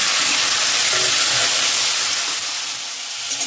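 Papaya, sweet potato and potato fry with vegetable stems in a pan, giving a steady close hiss and sizzle with faint scraping of stirring throughout.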